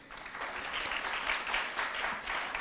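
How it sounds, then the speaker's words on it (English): Steady crowd applause for students at a memorial lecture event, dense clapping that swells and holds for a few seconds without talk. "special round of applause to all of you"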